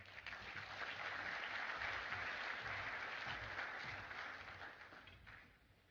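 Loud, sustained applause from a conference audience welcoming a keynote speaker to the stage at an IT expo, steady clapping for about five seconds before tapering off.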